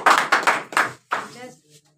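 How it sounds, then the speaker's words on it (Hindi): Classmates clap hands in a room, a handful of loud, uneven claps in quick succession, then a brief voice as the clapping stops. "ताली मारो।"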